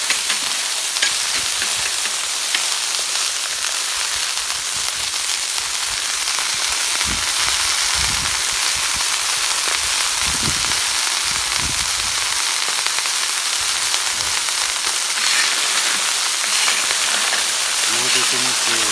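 Mussels spread in one even layer across a hot plancha griddle hiss and sizzle steadily, a dense crackling frying noise that runs unbroken from start to finish, with a few soft scraping stirs.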